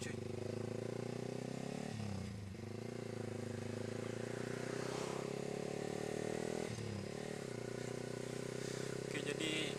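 A motorcycle on a road trip in South Aceh gives a steady, close, droning engine note with two brief dips as the rider shifts gears, and a voice talking faintly over the ride.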